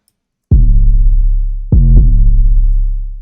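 Deep 808 bass from a free plugin with its resonance knob turned up: two loud, booming hits, the second arriving after a short gap with a quick retrigger, each swelling with rich overtones and decaying slowly, with no voices.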